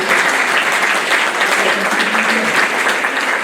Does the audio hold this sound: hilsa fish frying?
no